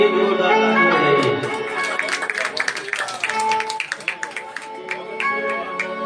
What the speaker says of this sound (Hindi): एक बार हमारे गुरु वाले भैयाओं के लिए जोरदार ताली बजाइए